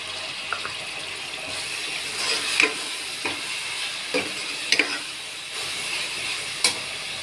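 Chicken pieces frying in a pan with salt and yogurt for white chicken biryani, giving a steady steamy hiss with a few sharp scrapes and clinks of stirring, close and moderately loud with no talk.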